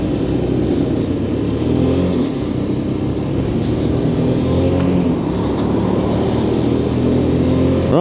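A Lexmoto LXS motorcycle on a road test ride hums steadily up close, its engine rising and falling in pitch through gentle revving, loud and continuous with wind and traffic noise behind.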